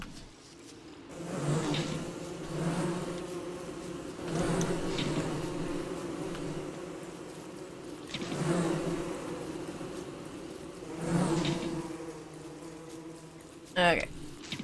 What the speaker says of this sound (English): Well, let's just run through bees.